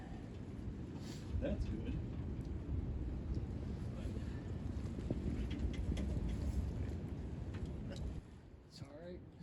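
An old, rusty boat's engine running roughly as the main clutch is briefly engaged and released, a dense low rumble with wind noise that drops off near the end, while people talk over it.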